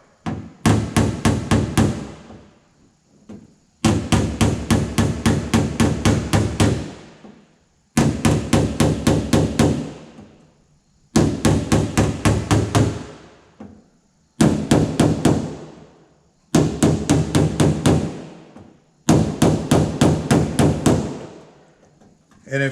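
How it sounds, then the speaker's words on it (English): A light body hammer works a dented car door panel in rapid bursts of loud metallic taps, about six runs of quick strikes separated by short pauses, with no other sound between them. "I use a lighter hammer."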